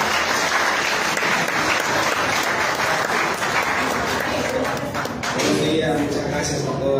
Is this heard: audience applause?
yes